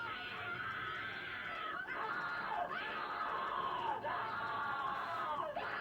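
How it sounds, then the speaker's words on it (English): A character in an animated creepypasta screams loudly and continuously, a shrill sustained wail with brief breaks every second or so. "Why is she screaming so loud?"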